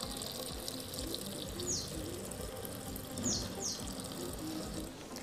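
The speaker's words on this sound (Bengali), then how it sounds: "এবার জল দিয়ে দিচ্ছি।" Water poured into a pot of ridge gourd and red lentils for dal, a continuous splashing gush at moderate level, with faint bird chirps in the background and no talking.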